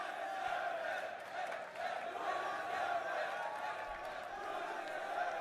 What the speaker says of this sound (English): The crowd here chanting, "You deserve it."